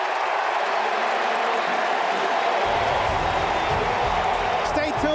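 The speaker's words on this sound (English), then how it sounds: "And the crowd loves it." A packed stadium crowd roars and cheers at a 2006 NFL game between the Cowboys and Falcons, a loud, continuous wash of noise that swells toward the end.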